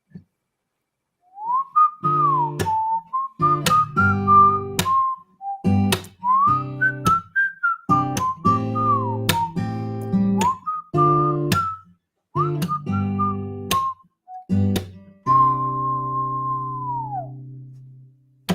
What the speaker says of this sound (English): So we'll start with this one, which starts with whistling.